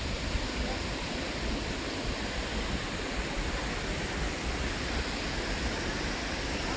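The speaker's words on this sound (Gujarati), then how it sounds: "પાછળ જોઈ શકો છો હીરા ધોધ." Gira waterfall roars as a dense, steady rush of falling water, loud and unbroken, no voices.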